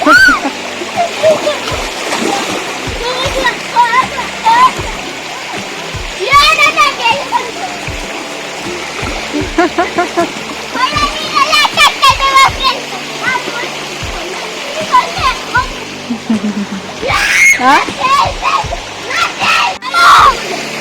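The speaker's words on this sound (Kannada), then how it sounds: "ನೀವು ನೀರಲ್ಲಿ ಆಡಬೇಕಾ ಬೀಳ್ಬೇಕಾ ಏನು ಬೇಕಾದ್ರೆ ಮಾಡು ಅಂದೆ" A child splashes and plays in water outdoors, with repeated splashes and rushing water mixed with a voice and other talk throughout.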